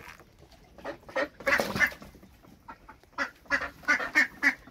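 Ducks quack repeatedly while feeding in a farmyard, bursts of nasal calls coming in clusters at moderate distance, with a louder flurry of overlapping quacks in the middle and a steady run of calls toward the end.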